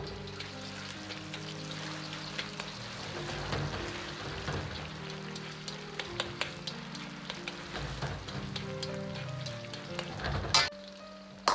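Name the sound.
marinated shredded pork sizzling in hot oil in a wok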